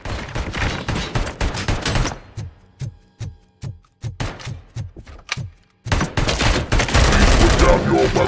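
ED-209 robot fires bursts of heavy automatic gunfire in RoboCop: Rogue City, loud rapid volleys that give way to sparse single shots and then a dense closing barrage.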